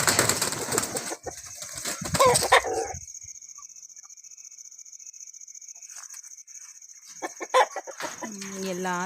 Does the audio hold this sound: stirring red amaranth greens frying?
no